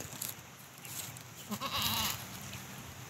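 A goat bleats once nearby, a short wavering cry over quiet outdoor background noise.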